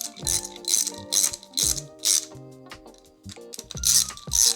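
A hand ratchet tightens a 13 mm check valve on a Kranzle 1622 pressure washer in short, close bursts of clicking strokes, each separated by brief pauses, loud and alone.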